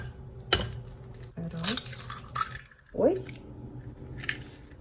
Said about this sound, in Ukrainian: І сюди вбиваємо три яйця.